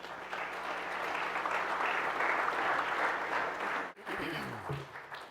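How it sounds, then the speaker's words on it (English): Audience applause at a tech conference keynote, sustained and fairly loud from a large room, breaking off abruptly near the end before a voice begins speaking. "Round of applause."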